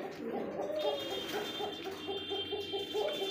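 Giribaz racing pigeons coo in a steady, repeated pulsing rhythm amid a busy background with a faint high whine running through.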